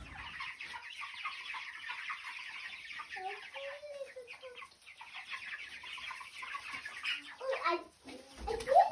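Chickens cluck and chatter near a shop sidewalk, a steady mid-close flock murmur with a few sharper squawks toward the end, no talking.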